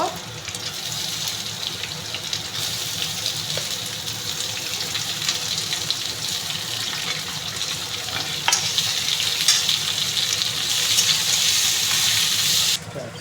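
Chopped onions sizzle in oil in a pan that already holds fried potatoes and cumin, a steady close frying hiss with occasional stirring clatter that grows slightly louder near the end.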